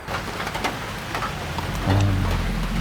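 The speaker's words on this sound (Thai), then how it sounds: "ฝนก็ตก" Steady rain falls outdoors on rural farmland in northeastern Thailand, a dense even patter with a low rumbling undertone that swells slightly near the end, no voices present.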